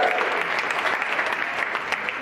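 A comedy club crowd at Cap City Comedy Club erupts in loud, sustained cheering, clapping and whooping that holds steady for the whole stretch, close and dense with no single voice standing out.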